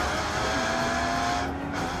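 The 3.8-litre naturally aspirated six-cylinder engine of a Zagato car hums steadily nearby, a loud, continuous low drone with a brief dip near the end and no speech over it.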